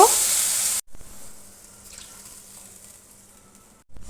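A short, loud rush of water rinses out a mixer grinder jar, then cuts off abruptly into a faint, quiet kitchen background.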